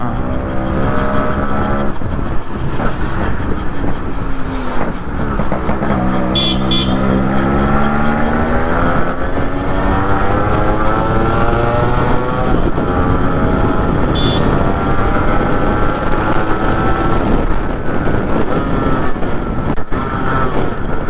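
A Yamaha RX100 two-stroke motorcycle engine runs loud and close, holding a steady buzzing drone that swells and dips as the throttle is blipped, with a couple of brief sharp accents.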